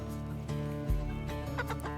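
Isa Brown and brown sex link hens cluck and murmur in a backyard chicken yard, a few close soft calls over a steady low background hum.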